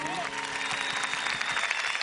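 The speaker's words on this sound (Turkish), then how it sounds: "Cemali için kocaman bir alkış rica ediyorum." Audience applause for Cemali at a small music gathering, a dense steady wash of clapping mixed with sustained tonal music and some voices throughout.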